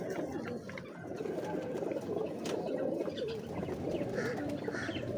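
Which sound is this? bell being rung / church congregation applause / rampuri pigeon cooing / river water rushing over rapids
rampuri pigeon cooing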